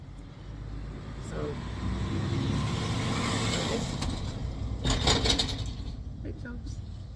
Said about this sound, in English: There's another lorry going past.